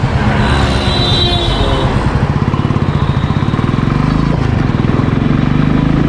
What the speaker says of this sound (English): so let's give a throttle and see the pickup of this vehicle